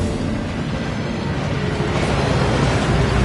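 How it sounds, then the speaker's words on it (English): Waterfall in the video game Hogwarts Legacy, a continuous dense roar of falling water that stays steady and loud throughout with no voices. "That waterfall washes away all enchantments."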